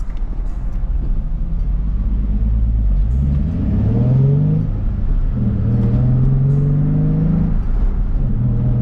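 A BMW's engine rumbles steadily as the car drives off, rising in pitch as it accelerates and revs, loud and close with no talking.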